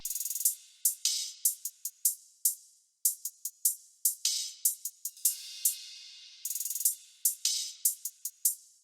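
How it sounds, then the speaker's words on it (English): Hi-hat and cymbal pattern programmed in Ableton Live for festival trap, panned across the stereo field: crisp, quick ticking hits and rolls with occasional longer splashes, thin and bright with nothing underneath. "So the cymbals all together sounds like this."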